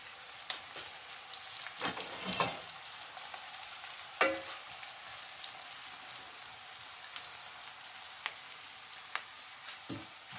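A spaghetti omelette mixture with onions and peppers sizzles in a frying pan, a soft, steady crackle broken by a few sharp clinks and pops, heard close and quiet with no talking.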